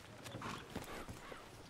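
Horse hooves clip-clopping in the video game RedM, a few soft uneven hoof strikes at walking pace, moderately close with no talk over them.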